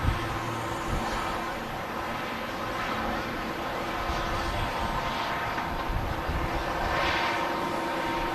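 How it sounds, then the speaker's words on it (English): A KLM Embraer jet arriving at Manchester Airport: a steady, distant engine roar that holds at the same level throughout, with a faint swell of high whine toward the end and no talk. "Looking like the next arrival is going to be the KLM Embraer."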